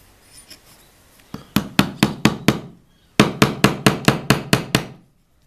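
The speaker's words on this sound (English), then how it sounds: "I can just pop the nail through the pivot and whack down on it" Sharp hammer-like whacks driving a nail through a wooden reading lamp pivot: a run of six blows, a pause, then nine more in a steady rhythm, loud and close.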